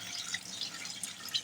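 Cold water poured over drained pasta in a strainer gives a steady, close splashing trickle with small bright drips throughout, and no voices.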